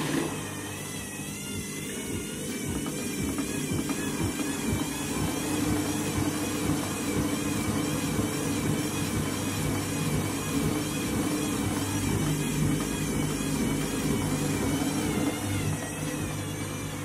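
A washing machine spinning out of balance, giving a loud, steady rumbling whir with a low droning hum that runs unbroken throughout, with no voices.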